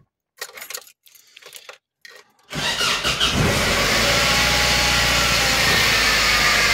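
A car with erratic electronic fuel injection and a newly added engine ground cable: keys jangle and the engine cranks and catches, then settles into a loud, steady idle that carries on without talk.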